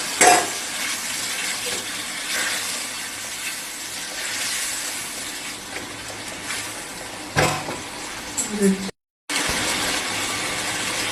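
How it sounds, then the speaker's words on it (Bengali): Water poured into a pan of prawns cooking for a Bengali chingri macher jhal, a steady hissing sizzle lasting several seconds with a brief burst near the end and a short silent gap, no voices. "আমি জল দিয়ে দিলাম।"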